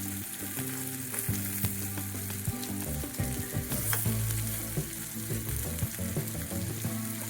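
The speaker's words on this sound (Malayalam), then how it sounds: "ഒരു ഭാഗം ഫ്രൈ ആയി കഴിഞ്ഞാൽ നമുക്ക് ഇതേപോലെ ഒന്ന് മറിച്ചിട്ട് കൊടുക്കാം." Bitter gourd pieces sizzle and crackle steadily in hot oil in a pan, with occasional stirring and scraping clatter over the continuous frying hiss, close and moderately loud.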